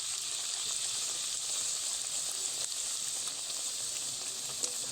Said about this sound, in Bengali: এভাবে একটু তেল ছিটালে কিন্তু দারুণভাবে লুচিগুলো ফুলে উঠবে